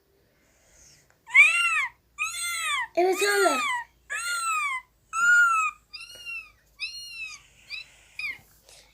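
A child imitates a kitten, making about ten thin, high meows in a close, steady series that grows softer toward the end. A brief spoken reply comes near the start.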